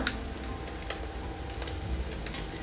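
Salmon patties sizzle steadily in a pan of butter and oil, a continuous close frying crackle with small pops and occasional scrapes and stirs, no voices.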